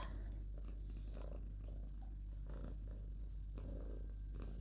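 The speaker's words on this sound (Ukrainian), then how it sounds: "І ти муркочеш, да?" A domestic cat purrs close up in a quiet room, a steady low rumbling purr with soft rhythmic pulses and no voices.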